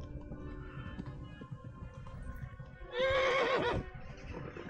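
A horse whinnies in the medieval role-playing game Kingdom Come: Deliverance, one loud quavering neigh that rises over faint hoof clip-clops and background ambience.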